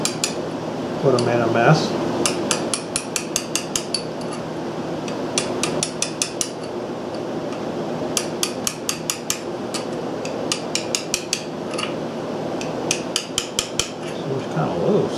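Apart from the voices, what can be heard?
hammer tapping seal into Briggs & Stratton Model B engine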